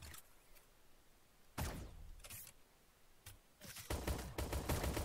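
Gunfire in the egg-themed shooter game Shell Shockers during a 2v2 match, with sharp shots in separate bursts, a pistol among them, growing into rapid, louder volleys toward the end.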